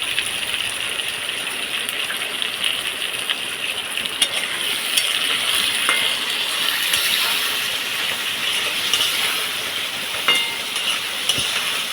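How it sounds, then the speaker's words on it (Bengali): Potatoes fry in a pan with salt in a village kitchen, giving a steady, close sizzle and hiss throughout with occasional faint stirring scrapes and no talk. "আলুটা একটু লাল করে ভাজা হয়ে আসবে"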